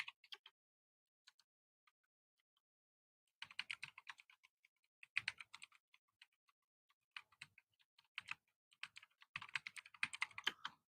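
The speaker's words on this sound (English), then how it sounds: "You hear bunches of keys because I'm pounding them" Computer keyboard keys pounded hard during typing, scattered clicks at first and then dense bursts of loud, rapid clacking in uneven runs, close and alone without talk.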